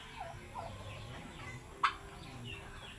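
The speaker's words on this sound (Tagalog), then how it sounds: "Cute sa pabo." Turkeys on a small farm gobble faintly and repeatedly in the background, with one sharper, louder call standing out partway through.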